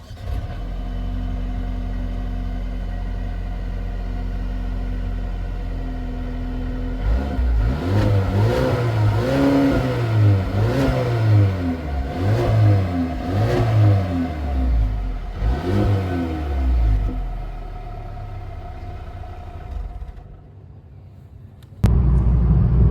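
A 2023 Mercedes-Benz CLA 250 engine idles steadily, then revs up through a series of rising and falling throttle blips before settling back, loud and close with no talk.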